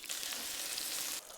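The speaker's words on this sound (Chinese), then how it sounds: "加入菌菇炒至软身，" Mushrooms stir-fry with sliced garlic in a wok, a soft, even sizzle heard close up that drops away near the end, with no voices.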